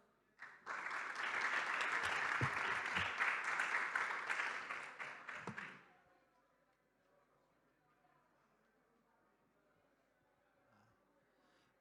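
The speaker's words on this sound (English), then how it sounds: "Please give him a big round of applause." Audience applause greeting a speaker at a cryptography conference, a dense burst of clapping for about five seconds that stops abruptly, followed by quiet room noise.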